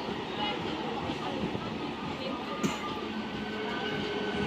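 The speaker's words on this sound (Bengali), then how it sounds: "ট্রেন ছেড়ে দিয়েছে" A local train pulls out from a station near Bandel, heard from inside the carriage as a steady low rumble and rattle that stays even and moderately loud, with a brief clunk partway through and faint voices underneath.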